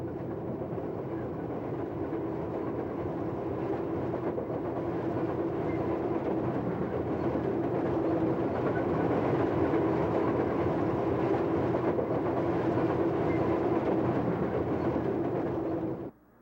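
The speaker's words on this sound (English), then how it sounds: "Here's another Metroliner easing its way across the bridge." A Metroliner electric train rolls steadily across a bridge for the whole stretch, a continuous loud rumble with faint clickety-clack of wheels on rails, then cuts off abruptly at the end.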